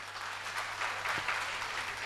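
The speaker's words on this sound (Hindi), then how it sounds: "मैं चाहता हूँ सर के लिए एक जोरदार तालियां," An audience at a recognition ceremony gives steady, moderate applause, a continuous wash of clapping with no speech over it.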